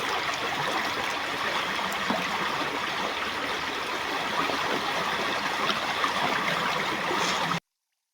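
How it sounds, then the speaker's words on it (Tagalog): A river runs steadily close at hand, its continuous rushing wash holding an even level with occasional brighter splashes before stopping abruptly at the end. "Yung ilog yun."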